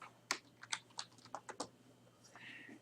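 Computer keyboard typing: about ten quick, light key clicks in an uneven burst, faint and close, then a soft trailing sound.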